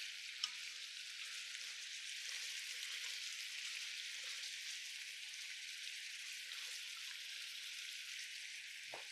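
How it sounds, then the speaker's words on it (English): A miso-glazed sea bass sears in a skillet, giving a faint, steady sizzle with soft crackles throughout and a brief clink near the end. "take this same skillet or whatever you're searing your fish in"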